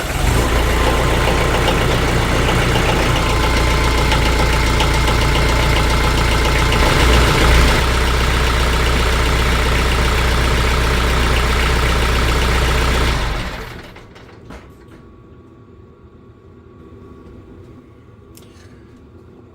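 A car engine idles after a fresh oil change with a steady, loud, close rumble that runs unbroken for about thirteen seconds, then drops abruptly to a much fainter background hum.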